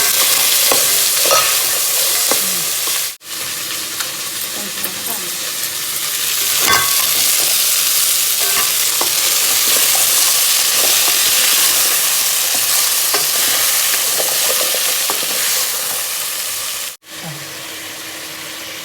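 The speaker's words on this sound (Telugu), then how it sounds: "ఇప్పుడు వచ్చేసి వెజిటేబుల్స్ తోటి బాగా ఫ్రై చేసుకోవాలి" Chopped potato, carrot and beans fry and sizzle in a pan with browned onion and green chilli for a vegetable biryani, stirred steadily throughout with scraping clatter, loud and close, with no talking.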